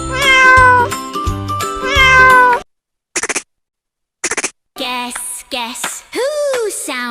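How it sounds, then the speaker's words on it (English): Several cat meows sound close and clear, some short and some drawn out, with a few brief gaps between them and a bit of melodic backing at the start. "Cat says meow"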